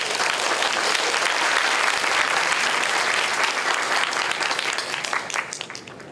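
Audience at a law college lecture applauding to welcome a former president, a dense sustained ovation of many hands that holds steady and then thins out and fades toward the end.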